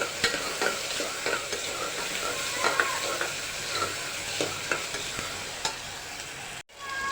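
Spring onion leaves, crushed ginger and green chillies get stirred into softened tomatoes frying in a pan for pav bhaji, a steady sizzle under repeated light spatula scrapes and taps, ending with a brief abrupt cut.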